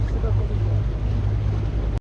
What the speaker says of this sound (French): Là, t'as un petit bateau moteur. Alors oui, regarde, il va passer.